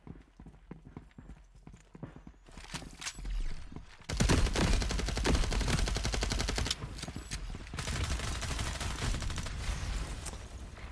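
Sniper and other gunfire in the FragPunk shooter game, sharp shots and bursts that swell loud from about four seconds into dense sustained firing, with clopping-like footsteps and game effects throughout.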